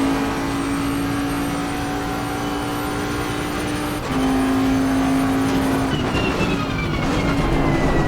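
A Bentley Continental GT3 race car's V8 engine holds a steady high drone in a racing game, with a brief lift around four seconds and a shifting pitch near the end, loud and continuous with no talk.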